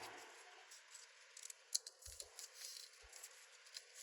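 Scissors snip through paper while a hinge is cut for a Halloween envelope journal, giving quiet, sparse crisp cuts with small rustles, close and faint, with no talk.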